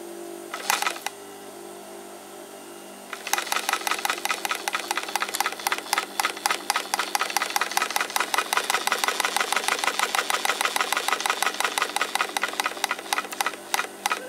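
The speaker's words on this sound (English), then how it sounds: "Let's turn the motor on and see what happens" A Union Special 52800BT industrial sewing machine motor starts up after a brief burst, then runs with a fast, even mechanical clatter that holds steady and close.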